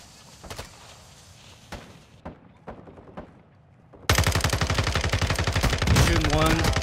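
Gunfire in Modern Warfare 2 DMZ: a few scattered shots and footsteps at first, then a sudden sustained burst of rapid automatic fire, loud and close, with a voice briefly heard beneath it.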